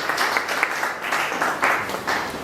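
Audience applause for the chairman of a public inquiry hearing, a steady crowd of clapping hands with slight swells in intensity, fairly close and without speech over it.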